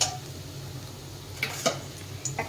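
Dried red chilli and black cumin seeds crackle in a little hot oil in a pan, with a faint continuous sizzle and a few sharp clinks of a utensil against the pan.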